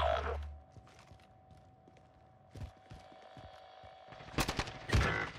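Gunfire in a multiplayer shooter: rapid bursts of automatic fire, sporadic and distant at first, then loud, close volleys near the end, with a steady low hum underneath.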